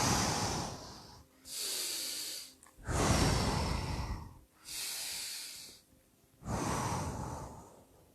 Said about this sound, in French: On va prendre 3 grandes respirations.